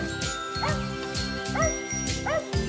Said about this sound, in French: accompagnée de Patapouf, son chien